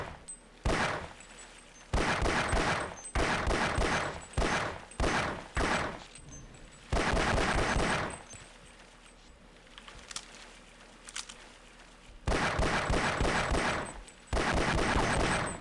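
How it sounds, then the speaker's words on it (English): Rapid pistol fire in Half-Life: Opposing Force rattles out in dense, loud bursts of several seconds each, separated by brief pauses, with no talk over it. "can you test the pistol's alt fire just to prove you know about it?"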